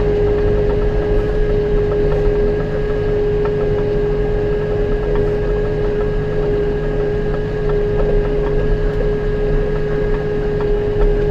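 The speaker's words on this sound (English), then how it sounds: "This tractor doesn't have enough power to pull hills very well, so I have to downshift a lot of times" A John Deere 5711 Dyna 4 tractor engine pulling a rake through thick rye drones steadily at constant revs, loud and close, with a continuous low rumble and a persistent tonal hum.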